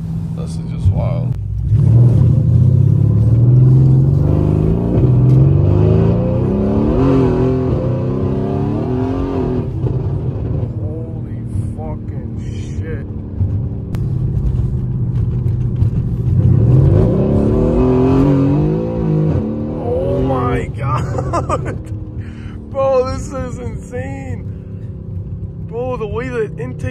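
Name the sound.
1000 HP PTG Mercedes C63s accelerating with turbos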